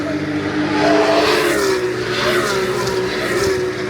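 A race car launches from the outside of the front row at the start, its engine roaring loud and close as it accelerates, a continuous strained drone with shifting pitch and no voices.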